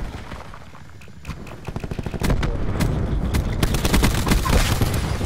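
Galil rifle fire in a multiplayer shooter video game: scattered shots at first, then from about two seconds on a dense, loud stretch of rapid automatic bursts and overlapping gunfire that continues to the end.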